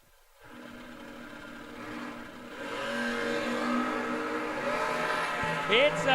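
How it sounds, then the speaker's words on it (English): Drag race cars launch down the strip, their engines swelling from quiet into a sustained, rising roar heard from a distance, with a short squeal near the end and an announcer talking over it. "It's a drag race"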